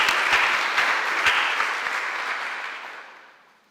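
Applause at a nursing white coat ceremony, a room of clapping hands with a few sharp claps standing out, fading away over a few seconds.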